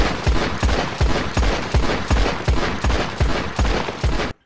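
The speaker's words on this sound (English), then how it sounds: "firing and reloading 12 rounds while dual-wielding the revolvers. Okay, first up is the Navy revolver." Two Navy revolvers fire in quick alternation in Red Dead Redemption 2, twelve loud, punchy gunshots evenly spaced over about four seconds with no voices.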